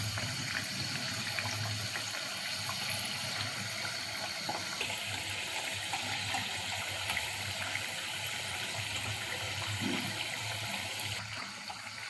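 Badam puri frying in hot oil in a pan over a low gas flame, giving a steady, close sizzle and bubbling that runs unbroken from start to end with no talk.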